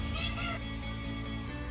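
A cat gives a short, close meow, a brief drawn-out cry heard alone over a steady background hum.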